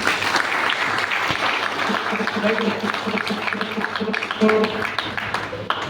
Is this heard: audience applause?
yes